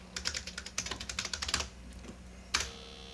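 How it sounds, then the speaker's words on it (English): Rapid, close-up clacking of keys on an early-1980s computer keyboard running educational software: a quick burst of keystrokes, a brief pause, then a couple more presses. "let's type in Susan Smith"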